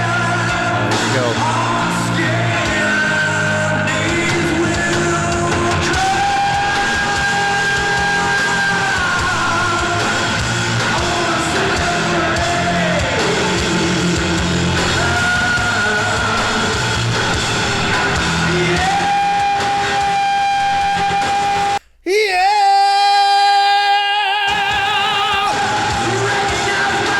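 A concert crowd at a live show yells and roars continuously over loud band music, the noise staying dense until a sudden brief drop near the end, then surging back.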